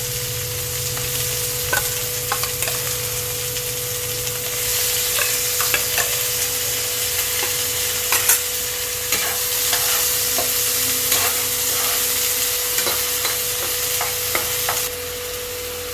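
Onion paste sizzles steadily in a hot pan after tomato and whole cumin, with a constant frying hiss and scattered scraping stirs and clicks of a spoon throughout, loud and close, no talking.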